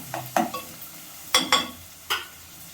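Onion pieces frying in a pan for a bhindi-curd tempering, quiet sizzling broken by a few distinct spatula scrapes and clinks against the pan.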